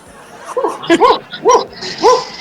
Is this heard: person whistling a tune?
no